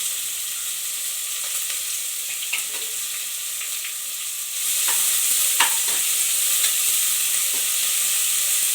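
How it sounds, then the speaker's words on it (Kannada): Chopped onion, green chili and curry leaves frying in a pan while being stirred, a steady hissing sizzle that grows louder partway through, with scattered scraping taps of the spoon close by. "ಹಾಗೆ ತಿರುಗಿಸ್ಕೊಳ್ಳಿ. ಸ್ವಲ್ಪ ಫ್ರೈ ಆಗಬೇಕು."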